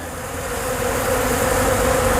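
Dense, steady buzzing from a large swarm of bees gathered at a hive outdoors, a loud, unbroken drone that holds strong throughout and rises a little at first.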